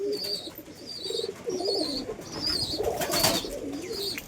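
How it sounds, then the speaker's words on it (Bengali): Pigeons coo in a loft, giving several soft repeated coos with a flutter or rustle near the end, fairly close and clear. "অনেকগুলো পায়রা আছে।"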